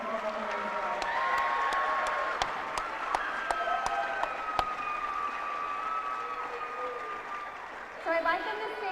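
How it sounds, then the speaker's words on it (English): An audience at a senior awards night gives a round of applause for graduating seniors, a broad sustained clapping wash with crowd noise that thins briefly near the end before a few final claps. "Will you please join me in a round of applause for the time and effort that these seniors have put into making their work."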